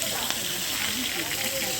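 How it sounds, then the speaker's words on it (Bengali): Hilsa fish frying in hot oil at a riverside restaurant by the Padma: a steady, dense hiss and crackle that fills the clip, with faint voices mixed in. "এই যে মাছগুলো এখন ভাজা হচ্ছে,"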